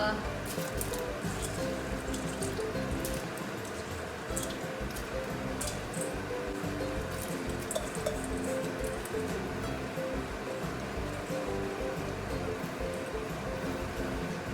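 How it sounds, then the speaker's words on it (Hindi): Rice goes into boiling water for mutton biryani, with steady churning, bubbling and splattering throughout, close and fairly loud, while someone speaks over it. "अभी मैं चावल डाल रही हूँ"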